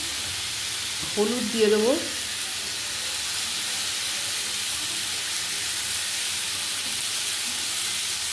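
Ginger, chopped tomato and two green chillies frying in a pan for a Bengali rui fish curry, a steady broad sizzle running throughout with a short spoken phrase near the start.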